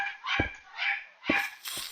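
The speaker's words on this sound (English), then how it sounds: "And there goes the dog right on cue," A dog barks and yips in a quick string of about four close, fairly loud barks, with no talking.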